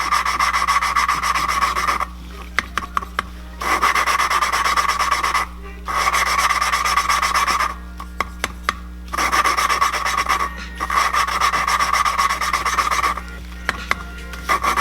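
Gritty rhythmic rasping of a valve being lapped against its seat in a Miata cylinder head, with bursts of scraping separated by short pauses, close and steady.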